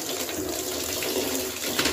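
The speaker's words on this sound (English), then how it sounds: "So I'm going to stay with somewhat warm water again." Warm water runs from a tap into a bucket for washing wool fleece, a faint, steady splashing flow heard alone without talk.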